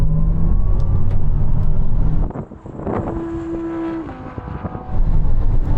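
An Audi R8 and an Audi RS e-tron GT accelerate hard from about 55 mph in third gear in a rolling race, with a loud engine roar and heavy wind buffeting from the car's interior, then a steady whine.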